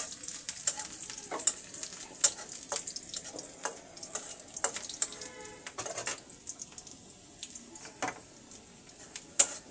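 Onions frying until brown, a continuous bright sizzle with frequent crisp spatula taps and scrapes, close and lively throughout.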